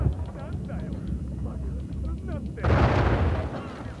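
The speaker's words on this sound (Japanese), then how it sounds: "そんな何段階にも爆発されてもな" Several explosions in the video game Uncharted 4, booming bursts that stack one after another and swell into a louder blast near the end, with game noise throughout.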